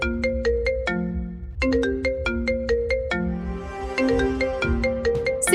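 A phone ringtone plays a looping electronic melody of bright repeated notes for an unanswered call, close and clear with no talking.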